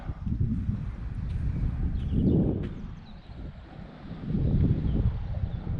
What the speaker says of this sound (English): That wind's picked up a bit.